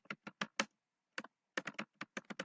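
Computer keyboard keys tapped in short irregular bursts while typing code, crisp close clicks with a pause in the middle, no voices.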